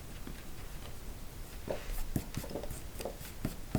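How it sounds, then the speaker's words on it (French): An eraser rubs gently across paper while a scrapbook Polaroid birthday card is being made, giving soft, scattered scratchy strokes at close range that pick up a little toward the end. "On vient gommer délicatement"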